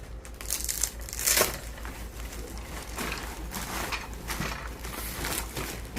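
Plastic packaging crinkles and rustles while a Naturehike camping roll table is unpacked, a continuous close crackle with brief louder bursts and no voices.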